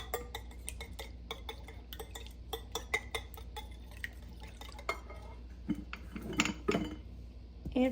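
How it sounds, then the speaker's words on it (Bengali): Eggs being beaten in a bowl for Noakhali-style pantua pitha, a rapid run of light clinks and taps of a utensil against the bowl, steady and close, with a few louder knocks near the end. "তো আমি এখানে ভালো করে ডিমগুলোকে ফেটিয়ে নেব"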